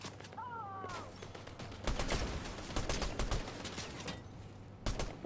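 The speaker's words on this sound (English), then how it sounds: "Somebody shooting." Gunfire in Fortnite, rapid volleys of shots crackling from the middle of the clip onward, fairly loud amid game ambience, with a brief break before another burst near the end.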